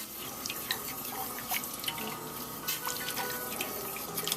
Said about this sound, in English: And now, we're going to go ahead and add some water.